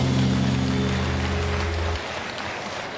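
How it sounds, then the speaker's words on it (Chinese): A big crowd at a Taiwanese political campaign rally for Lai Ching-te gives a long, dense roar of applause like heavy rain. A low electrical hum sits under it and cuts out partway through, while the clapping carries on. "我们给国语来一个热烈掌声。"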